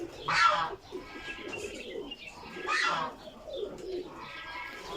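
Pigeons at a pigeon farm in Saudi Arabia, soft repeated cooing calls close by, coming in a few gentle swelling phrases with faint chirps between them.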